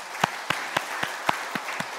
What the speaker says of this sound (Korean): 우리 먼저 우리 자녀들을 축복하는 박수로 한번 환영할까요?